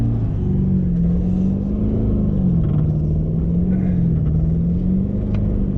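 A 4WD towing a trailer backs slowly out of soft beach sand, its engine a loud, steady, low rumble with gentle rises and dips in revs, no voices over it.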